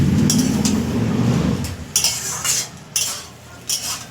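A lid comes off a cooking pot holding simmering Malabar spinach curry with pumpkin, a low bubbling rumble at first, then a few sharp metallic clinks and knocks of the lid and utensil against the pot, close by.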